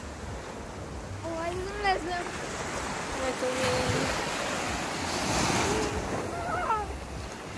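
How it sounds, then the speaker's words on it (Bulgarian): Sea waves washing onto a summer beach make a steady, broad rushing surf with wind buffeting the microphone, while people speak briefly and close by over the noise. "Ето го и моренчето."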